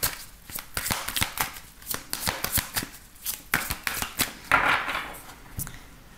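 Tarot cards are shuffled and drawn by hand in a rapid series of crisp riffling flutters and slaps, fairly close and loud, ending in a longer sliding shuffle.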